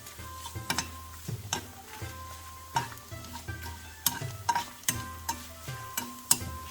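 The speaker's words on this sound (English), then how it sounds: "Stir the onion until it turns to brownish color." Chopped onion sizzles and fries in a pan while a utensil stirs it, giving repeated scraping and clinking strokes over a steady hiss, close and alone.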